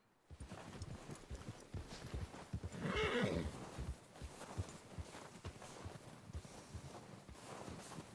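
A horse gives a loud whinny among steady hoofbeats clip-clopping on the ground, with faint wind in the background, in the video game Red Dead Redemption 2.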